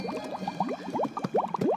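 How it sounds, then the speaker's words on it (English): Dry ice bubbling vigorously in water, a dense run of gurgling, popping bursts that churn steadily and loudly up close with no talk. "this stuff is bubbling all over the place and creating a great amount of mess"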